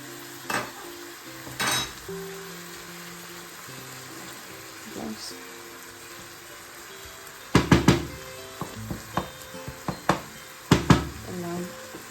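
Sauce goes into minced meat frying for chilli con carne and is stirred through, with a low sizzle, scattered clatters of spoon against pan and a burst of sharper knocks later on.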